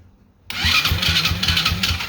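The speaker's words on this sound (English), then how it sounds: "Starter turns over." A Chinese dirt bike's starter motor kicks in after a moment of quiet, cranking with a steady whir and rapid rhythmic pulsing, up close.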